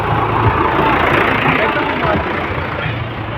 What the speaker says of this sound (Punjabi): ਆ ਦੇਖੋ ਵੀ ਜਾ ਰਹੇ ਟਰੈਕਟਰ